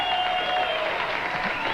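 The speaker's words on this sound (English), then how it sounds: "Look at them cheering, man." A studio audience at a Norm Macdonald comedy news segment breaks into steady cheering and applause, a dense, continuous roar of clapping and whoops with a faint tone running under it.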